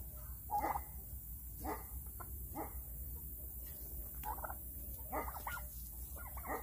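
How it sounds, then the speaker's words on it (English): Several dogs barking in short scattered bursts on a farm in Texas, somewhat distant and faint over a steady background hum. "Why the dog? They are barking."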